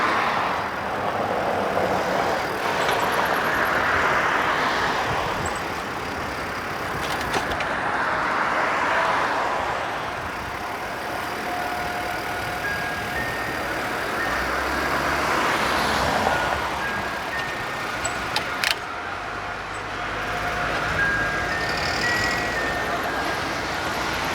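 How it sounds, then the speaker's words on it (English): Steady road traffic rolls past along Alii Drive in Kailua-Kona, a continuous broadband wash of engines and tires with swells as vehicles go by, heard close from a bicycle at the roadside. "Wait for a little of this traffic to clear out."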